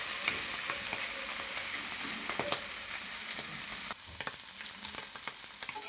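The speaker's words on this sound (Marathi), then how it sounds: "जरा खरपूस तळायची, मग कुरकुरीत लागतात खायला" Clams frying in a pan until crispy, a dense steady sizzle with scattered sharp crackles and pops, close and continuous throughout.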